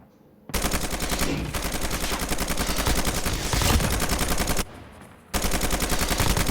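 Sustained bursts of M4LMG light machine gun fire in Call of Duty Mobile, loud and close. Rapid rhythmic shots run almost continuously, with one brief pause near the end before firing resumes.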